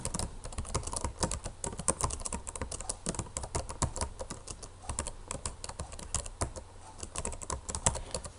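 Rapid, uneven typing on a computer keyboard, close and crisp, with dense clusters of key clicks and brief pauses throughout.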